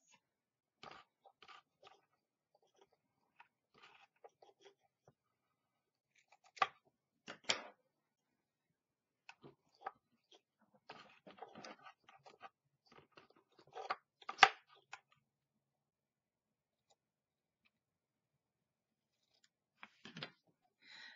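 Scissors snip through craft banner material in short, scattered bursts of crisp cutting with quiet pauses between, close and fairly soft, alone with no voices.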